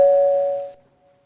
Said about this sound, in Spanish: Al día siguiente sonó el timbre.